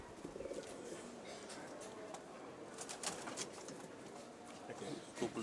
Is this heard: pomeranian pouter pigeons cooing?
yes